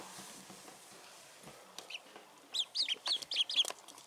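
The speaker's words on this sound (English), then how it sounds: "There is one of the ducks." Baby ducklings wrapped in a blanket give a quick run of high, thin peeps, close and fairly loud, after a quiet stretch of faint rustling and room noise.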